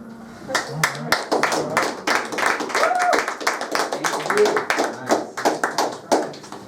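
A few hands clap in uneven, sparse bursts with gaps between, close and moderately loud, mixed with voices talking.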